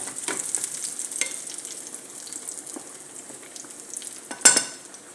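Garlic frying in a pan for molokhia soup, a soft crackling sizzle with stirring scrapes, rising to a brief louder splash of activity near the end.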